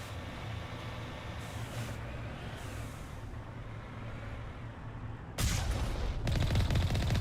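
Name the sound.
gunfire in the video game Mass Effect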